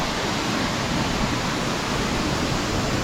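Steady, dense roar of rushing water at Sajjikot Waterfall in Khyber Pakhtunkhwa, a continuous broadband wash at constant loudness with no voices.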